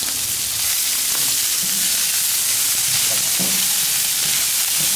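Broccoli and onion stir-frying in a pan with Italian garlic seasoning, a steady close sizzle with scraping stirs throughout and no talk.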